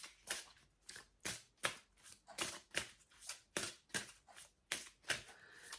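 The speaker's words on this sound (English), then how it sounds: "You hear the shuffling." A brand-new Fortune Oracle card deck is shuffled in about a dozen crisp, evenly spaced riffling bursts, close and clear with no talk.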